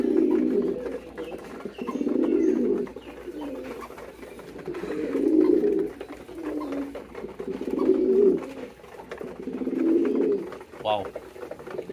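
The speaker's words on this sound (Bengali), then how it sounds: "দেখছেন মাক্সি কবুতরের ডাকটা" Maxi pigeons give repeated deep, throaty coos in close rhythmic bursts of about two seconds each, with brief pauses between, loud and near, with no talk over them.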